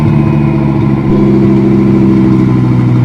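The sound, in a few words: BoostLogic twin-turbo Gen II Audi R8 V10 engine running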